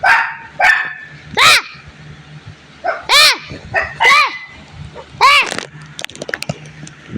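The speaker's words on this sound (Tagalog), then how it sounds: "Milo, wag ka nagtahol na tahol." A dog barks repeatedly at close range, sharp yelps and barks in irregular bursts, with a few whiny high notes and some background noise.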